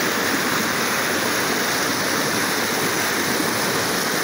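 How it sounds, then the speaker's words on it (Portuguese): A waterfall in the Serra da Mantiqueira mountains gives a loud, steady roar of rushing water that stays constant throughout, with no voices. "cidade de Cubatão também tem cachoeiras, iguais a essa"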